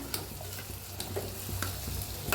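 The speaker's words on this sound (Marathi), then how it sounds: "थोडीशी डाळा घोटून घेऊया असं मऊ शिजवून घ्यायची" Cooked dal is mashed and stirred in a pot, giving soft repeated scraping and squelching strokes in an uneven rhythm, close and fairly quiet, with no talking.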